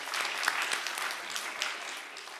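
Applause from roughly a hundred people at a church new-family invitation seminar in Incheon or Bucheon, a steady dense patter of clapping at even loudness with no talk over it.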